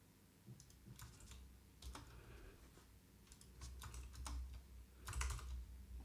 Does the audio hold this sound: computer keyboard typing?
yes